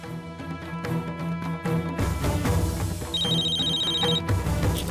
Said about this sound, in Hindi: फोन वागे है, उपाड़ी ले।